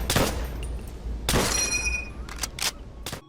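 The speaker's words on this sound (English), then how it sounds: "the gun sounds like a lot of other guns in Call of Duty history, but you add the ting when it actually runs out of bullets" Gunfire from a Call of Duty video game: sharp, loud bursts of shots in separate clusters, with a bright metallic ring trailing after a few of them, and no talk.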